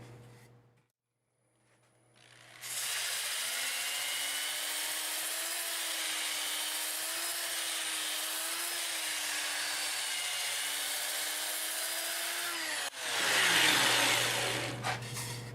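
Sanding a wood-turned bowl spinning on a lathe gives a steady, loud abrasive rushing hiss with a faint whine, holding level for about ten seconds after the machine spins up, then stopping with a bump of noise.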